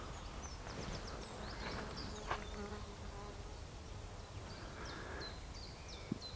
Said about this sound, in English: I can hear bees, birds.